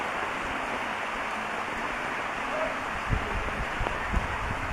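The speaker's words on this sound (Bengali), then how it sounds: "বৃষ্টি ঝরছে অঝোর ধারায়।" Heavy rain pours steadily on a village path, a dense even hiss with occasional low thumps, moderately loud and continuous.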